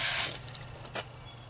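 Water running from a drinking water hose while vegetables are washed, a brief hiss of flow at the start that fades into faint trickling and drips, quiet and close.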